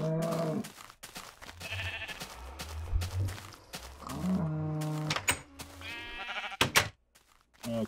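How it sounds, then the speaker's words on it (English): Sheep in the Minecraft video game bleat several times in short, nasal calls, spaced unevenly across the clip. Clicks and brief in-game sounds come between the bleats. "Let's go up and shear some of my sheep."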